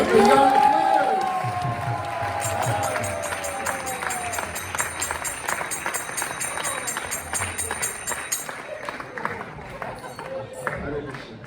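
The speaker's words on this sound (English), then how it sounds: "Please give a big round of applause for the young players." An audience at a drama performance applauds young players with a sustained round of clapping and some cheering. A voice and other tones are heard at the start, and a faint high hum sits under the applause.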